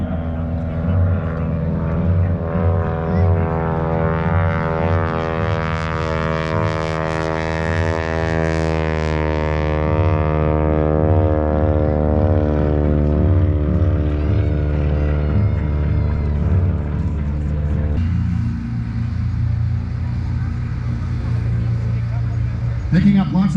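Steady radial engine drone of a Stearman biplane during airshow aerobatics with wing walkers, a harmonic whine that rises and falls through a loop, continuous and fairly loud under an announcer's commentary.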